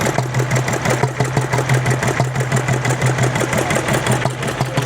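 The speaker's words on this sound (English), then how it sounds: "Like one of those little one-cylinder old-fashioned engines." An old-fashioned one-cylinder flywheel engine turning an ice cream maker at a rod run in Pigeon Forge, chugging close and loud with a steady, rapid, even thumping rhythm over a continuous low hum.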